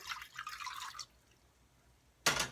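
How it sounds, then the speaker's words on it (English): Water poured in for a chicken gravy, a bright liquid splash and trickle starting sharply and running near and clear, with a quieter pause before a second burst of pouring at the end. "I want 2 cups of gravy, so I'm gonna put in 2 cups of water."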